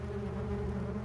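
Active yellowjacket wasps give a short, steady, low buzzing drone, close but quiet, with no voices.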